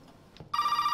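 A telephone in the Resident Evil 7 video game starts ringing after a short quiet stretch, a bright, sustained electronic bell ring, loud and close, with no voices.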